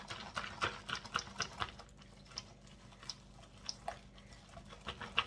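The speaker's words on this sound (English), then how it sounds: "So I'm just whisking it to try to keep it all incorporated." Whisk working through cooling brown butter in a bowl set over ice, making quiet, rhythmic scraping and soft clinking strokes in quick bursts with brief pauses, close and without talking.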